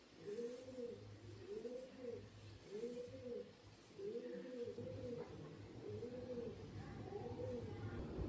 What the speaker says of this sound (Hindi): पक्षियों की आवाज़ आती है, इतनी सुंदर आवाज़ आती है